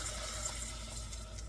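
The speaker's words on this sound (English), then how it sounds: "I've already blended up some spices with some beef bone broth, and I'm going to just dump it in" Spiced beef bone broth pours into a pot in a brief, steady, rushing gush of liquid, close and continuous with no breaks.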